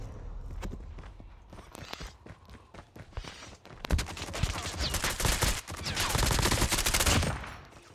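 Rapid gunfire in a Call of Duty match, scattered single shots and footsteps early, then dense sustained bursts of automatic fire, loud and close, without talk.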